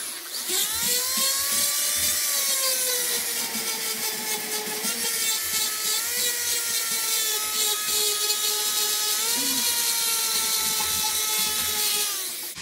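A Foredom flex shaft spinning a Saburrtooth burr carves and cleans up a chainsaw-carved wood sculpture, giving a steady high-pitched whine that bends in pitch as the load changes. It runs close and loud without a break.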